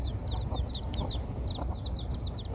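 Domestic hens, recently attacked by a wild cat, make soft, rapid clucking and chirping calls in quick repeated bursts over a low background rumble, close by and moderately quiet, with no one speaking.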